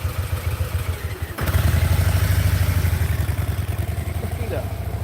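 A motorcycle idles with a steady low thump, then its engine note firms up and pulses louder as a new rider lets the clutch out during training and the bike creeps forward.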